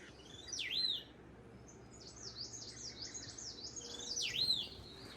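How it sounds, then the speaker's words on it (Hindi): Small birds in a Himalayan forest along a trail descending toward Surkhet chirp and tweet in quick repeated bursts, a couple of louder nearby calls framing a faint continuous twittering, with no voices. "फिर से पंछियों की चहचहाहट के बीच आ गए हम।"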